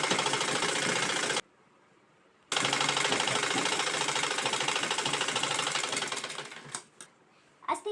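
A sewing machine stitching the lining of a blouse runs in a fast, dense mechanical clatter up close. It stops for about a second, restarts, then slows and ends with a few separate ticks.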